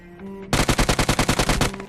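A loud, rapid automatic burst of about a dozen shots in PUBG Mobile gameplay, fired at a bot; evenly spaced, close cracks lasting over a second, framed by a faint game tone.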